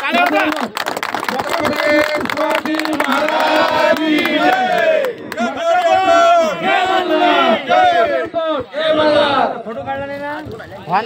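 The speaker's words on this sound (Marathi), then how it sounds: "जोरदार टाळ्या झाल्या पाहिजेत" A crowd at a bullock-cart race event claps and cheers for former MLA Sanjay Raimulkar, loud shouting voices and chanting layered over scattered clapping, with speech mixed in.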